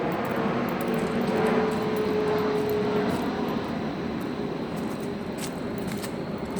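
Steady broadband roar of an airplane passing overhead near an airport, heard in the woods, holding at a fairly even level throughout with a faint droning tone; no speech.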